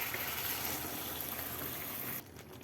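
Water is poured into a cooking pan while pork and eggplant simmer with garlic, pepper and seasoning, giving a steady, close broadband splash and trickle that runs for about two seconds and then stops abruptly.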